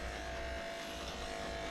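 Electric clippers trimming a reactive dog's back foot, a steady close buzzing hum that runs without a break, with no talk over it.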